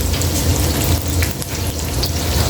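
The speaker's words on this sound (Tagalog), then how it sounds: "prito muna natin yung atay para ano siya, ganyan, prito, para hindi siya madurog" Chicken liver fries in hot oil in a pan, a close, continuous dense sizzle and crackle with no voices over it.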